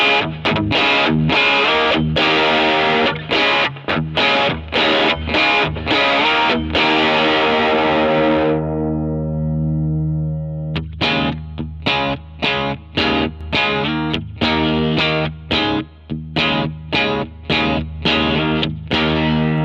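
An electric guitar played through a Klon overdrive pedal with the gain turned all the way up rings out in loud, thick distorted chords, struck repeatedly in a driving rhythm with a sustained ringing stretch in the middle.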